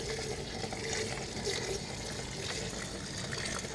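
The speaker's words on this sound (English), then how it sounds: "I'm just rinsing the grain bed down with some cold water so I can yank the manifold out" Cold water runs steadily over a bed of spent brewing grain, a continuous broadband rinse and trickle at moderate level, with no talking.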